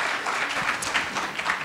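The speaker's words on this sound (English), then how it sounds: "Hands of applause." Audience applause after a presentation on the development of STEM schools in the United States, a dense, steady patter of many hands clapping, close and loud across the short stretch.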